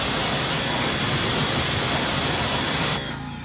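Water spray rinsing a car wheel before applying a wheel cleaner, a loud continuous hiss of pressurised water lasting about three seconds, then cutting off abruptly to a quieter wash of dripping.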